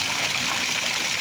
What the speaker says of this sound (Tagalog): Sumabog siguro yung faucet na yan.